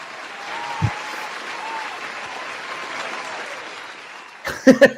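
Sustained, fairly soft applause rolls on steadily, then a few sharp, loud claps ring out close by near the end.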